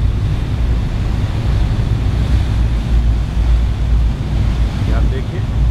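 Churning sea waves surge around a Stena Line ferry crossing from Holyhead to Dublin, a loud continuous rushing wash mixed with wind buffeting the microphone.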